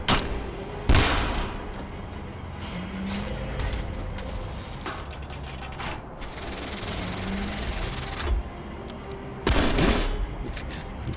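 Energy cannon blasts fire in a sci-fi action scene amid a dense, noisy battle soundscape, with several loud bursts, the strongest near the start and around the tenth second, over a continuous rumbling backdrop with no clear speech.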